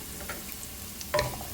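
Garlic frying in a pan as it turns golden brown, a soft steady sizzle with a brief louder burst of crackle near the end, fairly close and quiet, with no talk.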